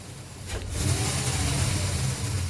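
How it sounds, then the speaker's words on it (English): A 2003 Dodge Ram 1500 with the 4.7 engine and a cylinder 2 misfire revs sharply as the throttle is snapped, the engine note climbing from a steady idle into a loud, sustained roar close by. "Back on cylinder 2, snap throttle."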